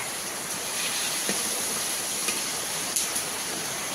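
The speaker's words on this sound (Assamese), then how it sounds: "এয়া দেখাই আছোঁ, মাছ ভাজিছে।" Fish frying in a pan during a home ceremonial meal, a steady hissing sizzle with faint crackles and occasional small pops, constant and moderately quiet.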